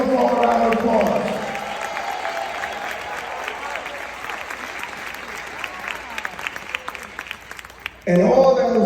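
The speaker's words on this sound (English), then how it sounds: "Come on, let's give them a round of applause." Audience at a State of the City address breaks into applause, loud at first and gradually thinning to scattered claps before a voice cuts in at the end.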